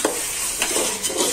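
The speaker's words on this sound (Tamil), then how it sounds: "கிளறி விடுங்க." Turmeric powder is stirred into a sizzling pan for prawn biryani, with a brief bright frying hiss and a few quick spatula scrapes close by.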